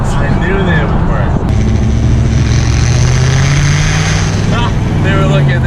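A loud, steady engine roar from an 841hp Corvette, its exhaust tips fitted with 16 duck calls that produce a constant droning whine. Two brief dips break it near the start and the end.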